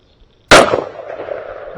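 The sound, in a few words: rifle shot fired through a Pulsar Thermion thermal scope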